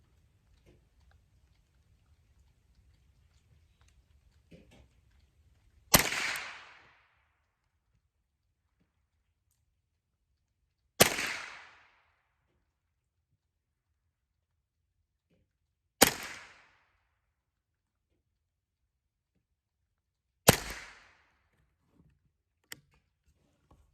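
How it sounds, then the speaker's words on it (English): Four gunshots fired one at a time at a target, each a sharp loud crack with a short decaying tail, spaced about five seconds apart against near silence, with no talking. "Now I just shot 4 times."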